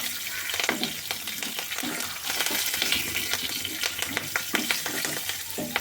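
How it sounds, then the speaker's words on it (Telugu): Cumin, mustard seeds and curry leaves sizzle in hot oil for a tempering, with busy crackling and popping and intermittent stirring scrapes close by, steady throughout with no talk. "జీలకర్ర, ఆవాలు, కొద్ది కరివేపాకు మొత్తం వేపుకున్నాం"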